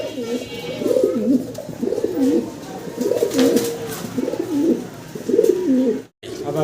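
A large pair of king pigeons coos in repeated rolling phrases, close and steady, with a faint background hiss between calls.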